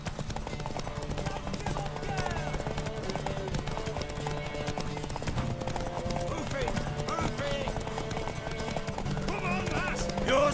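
Horse hooves clip-clop steadily in The Witcher 3: Wild Hunt, running continuously under a music score with voices talking over them.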